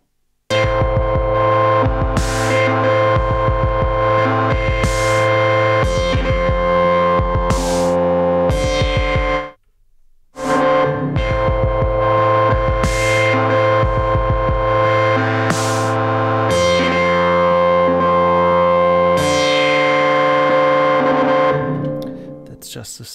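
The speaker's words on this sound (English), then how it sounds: "That's just the sub 37 with some P-locks applied to the filter cutoff and to the LFO that's changing" A Moog Sub 37 synthesizer plays with parameter locks on its filter cutoff and a changing LFO, giving loud, sustained tones that pulse in a rhythmic gate. The sound drops out briefly partway through, then fades at the end.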